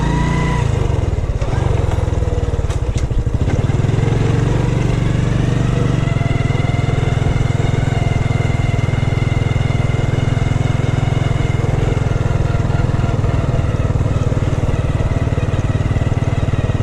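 A red scooter's engine pulls away in first gear, a loud steady drone with a throaty rumble and rising harmonics that holds close and constant throughout, with no talk.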